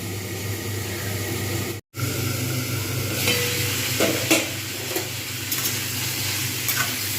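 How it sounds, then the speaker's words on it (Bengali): Steady sizzling of kohlrabi and potato frying in a pan, with occasional scraping and stirring clinks, a brief dropout near the start, no talking. "ওলকপি এবং আলু খুব সুন্দরভাবে ভাজা হয়ে গেছে"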